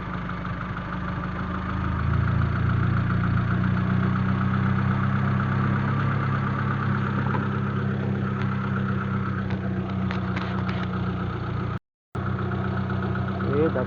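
Car engine with a TEC K20 coil-on-plug kit idling steadily while warming up, a close, even low rumble with a slight rise in level, then a brief cut near the end.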